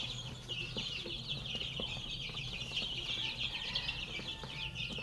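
Free-range backyard chickens, F1 birds, cluck and call softly in the middle distance over a steady outdoor bed of insect-like hiss and faint rural ambience.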